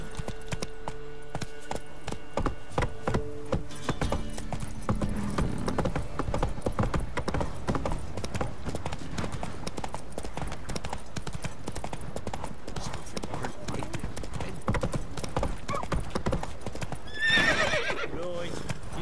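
Roach, Geralt's horse in The Witcher 3: Wild Hunt, trots with a steady clip-clop of hooves. A neigh sounds near the end, and a voice speaks briefly.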